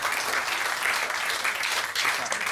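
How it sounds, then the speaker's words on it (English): A studio audience at the Deal or No Deal UK game show claps and cheers, a steady dense wash of applause filling the whole stretch without letup. "Come on, one cheer, applause."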